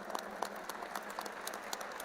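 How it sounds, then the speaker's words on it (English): An audience at an interfaith harmony conference applauds, a faint, distant patter of many hands clapping at a steady pace. "Give him a big clap."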